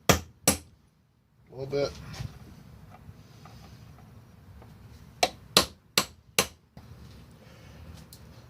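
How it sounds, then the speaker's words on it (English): Hammer blows on a chisel driving out a worn ATV wheel bearing, sharp metallic strikes in two quick pairs and then a burst of four spaced hits, with a short spoken remark between them. "You just keep going back and forth, back and forth, back and forth until you can get the chisel down in there and plop it out"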